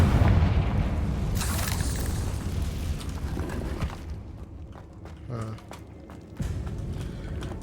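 Confringo fire spell blasts in Hogwarts Legacy, a loud booming explosion with a burst near the start, rumbling decay and more impacts later amid game noise.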